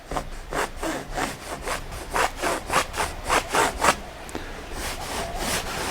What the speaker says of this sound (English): Now that sound you hear is my fingernail or my fingers dragging on the canvas.